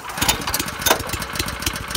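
A rented garden tiller's small engine runs steadily with a rapid chugging putter, fairly close and loud, with no talk over it.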